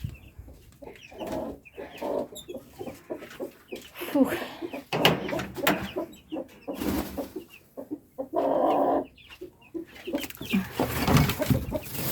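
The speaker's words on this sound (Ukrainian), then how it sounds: "Це іде вже курочка." Chickens cluck and call in a home vegetable garden, intermittent bursts close by mixed with someone talking and rustling.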